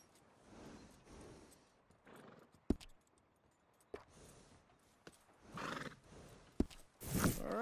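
A horse in Red Dead Redemption 2 snorts and neighs in short bursts, with breathy huffs, sharp hoof knocks and a loud whinny near the end, close and fairly quiet overall.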